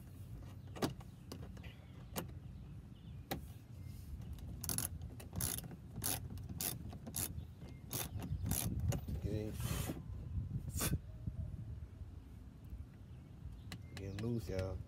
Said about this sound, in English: I got my 7mm socket wrench, and I'm about to take these pins off all across